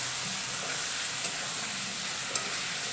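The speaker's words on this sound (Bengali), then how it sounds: "এইটা একটু ভালো করে নেড়ে চেড়ে নেবো" Swollen lentils and masala are stirred in a pan with a soft continuous sizzle and scraping. A couple of faint spoon clicks sound close by.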